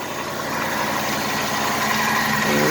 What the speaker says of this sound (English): I hear a little lifter rattle.